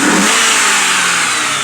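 A 4.6 V8 in a 1995 Ford Thunderbird LX with a cold air intake and dual exhaust revs hard and loud up close, a brief roaring burst of throttle with no talking.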